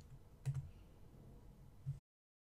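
A few quiet keystrokes on a computer keyboard, heard close up as soft clicks at the start and end of a short stretch of near silence, then the sound cuts off.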